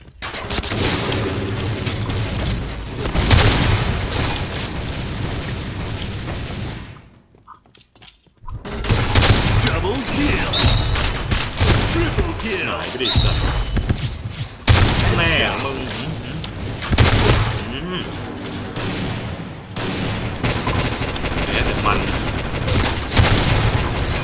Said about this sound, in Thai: ระเบิดอะไรเยอะแยะวะ